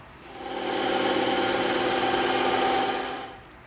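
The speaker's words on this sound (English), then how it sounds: "now we're going to go over to the bandsaw and we're going to cut those out on the bandsaw" A bandsaw runs steadily while cutting out EVA foam pieces for a prop bolter, a sustained whirring hum that swells in after a moment, holds for a few seconds, then fades as the cut ends.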